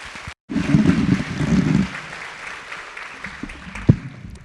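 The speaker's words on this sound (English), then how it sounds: "Give her a round of applause for me, y'all." At a women's leadership luncheon, an audience claps in a short, moderately loud burst after a brief silence, then the applause thins to a low patter with a sharp knock near the end.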